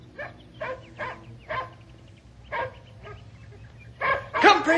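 A dog barks repeatedly in a radio drama, with a steady series of short woofs spaced about half a second apart that build into louder, excited barking at the end.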